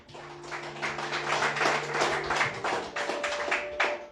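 A church congregation claps hard and fast in praise, crisp overlapping claps filling the room at a steady pace, with sustained organ-like tones humming underneath.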